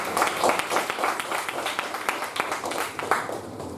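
A small audience at a Toastmasters educational session claps for the speakers, dense steady applause throughout, close and fairly loud.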